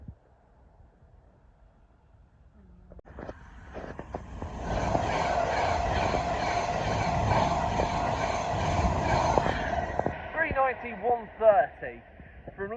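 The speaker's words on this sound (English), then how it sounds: "Plus through now is another Pendolino from London Euston to Liverpool" A Pendolino express on the West Coast Main Line runs through Nuneaton station, its rushing roar rising after about three seconds and holding steady near and loud, with brief squeals and voices toward the end.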